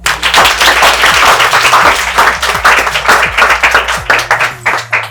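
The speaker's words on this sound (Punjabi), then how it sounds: "ਬੱਚੇ ਲਈ ਤਾੜੀ ਲਾ ਦਿਓ ਜੀ ਇੱਕ ਵਾਰੀ" Loud, close applause from a group at a computer training centre in Patiala, Punjab, with individual claps clearly audible in a quick, uneven rhythm that tapers off near the end.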